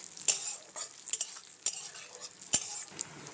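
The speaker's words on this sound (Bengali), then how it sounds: "এগুলো একটু ভালো করে নেড়ে নেব।" Peanuts and raisins get stirred in a pan with a spoon, a close, quiet scraping and clinking of metal on metal in a series of irregular strokes, with no talk.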